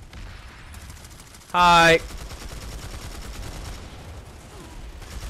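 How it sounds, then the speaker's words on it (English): Rapid gunfire rattles through a Planetside 2 firefight, steady shots running under a short, loud voice. "someone's shooting from the other doorway"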